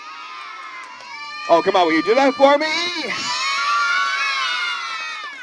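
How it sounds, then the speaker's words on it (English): Children at a puppet show cheer and shout together in a loud burst of high voices that swells and then fades, with an adult talking over the start. "I want everybody out there to give him a big yay and a big round of applause"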